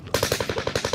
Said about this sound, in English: Dude, I used every bullet of that Bren